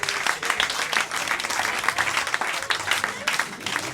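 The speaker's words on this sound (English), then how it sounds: "vous pouvez les applaudir bien fort" An audience claps loudly after a casino concert, a dense, sustained round of applause that holds steady throughout the clip.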